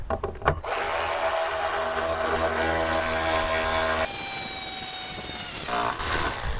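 A TE-RW 18/60 Li cordless ratchet wrench switched into reverse gives a few clicks, then a close, steady electric motor whine whose tone shifts partway through, with no talking.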